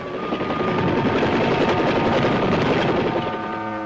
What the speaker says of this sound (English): Army aviators get in with their dust-off helicopters